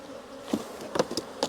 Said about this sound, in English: We're going to go in here and check these 21st bee frames.